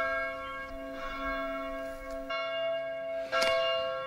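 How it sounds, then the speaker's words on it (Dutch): Church bells ring at a Trappist convent, a steady sustained peal with rich lingering overtones, one stronger stroke standing out near the end, heard alone without voices. "De klokken luiden."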